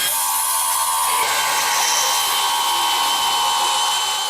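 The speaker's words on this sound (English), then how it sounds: "he decides to pull out the big gun and handheld bandsaw" A handheld bandsaw cuts through a motorbike lock with a steady, high-pitched grinding whine that runs unbroken and close for the whole stretch, with no talking.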